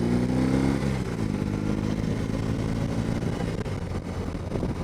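Engine of a 2022 BMW R18 Classic motorcycle, heard onboard while riding: a deep, steady, loud rumble that drops slightly in pitch early on, with wind noise and no talking.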